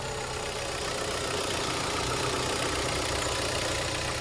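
A Kia Cerato Koup 2.0 engine idling with 75,000 km on it, a steady, even broadband rumble heard up close, constant in level throughout with no talk.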